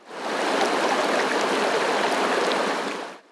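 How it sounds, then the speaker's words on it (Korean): Clear water rushes steadily through a mountain valley stream freshly thawed after winter, a dense, even, close-up babbling flow with no voices. "겨우내 얼었던 계곡에 청아한 물소리가 넘쳐납니다."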